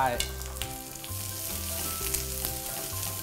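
Garlic, three-colour chilies and onion fry in hot oil in a pan, giving a loud, continuous sizzle with a low hum running beneath it and no talking.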